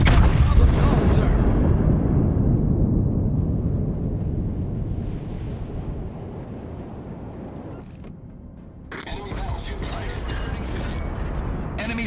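Heavy naval gunfire from a battleship in World of Warships: Legends, loud booming blasts decaying into a long rumbling roar, followed by a brief lull and another burst of crackling, hissing noise.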